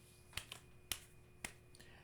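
Sharp slaps from clapping the back of one hand, four distinct close claps spaced unevenly over two seconds, with a fainter fifth tap near the end against quiet room tone.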